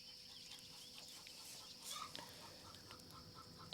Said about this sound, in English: you all can hear my chickens in the background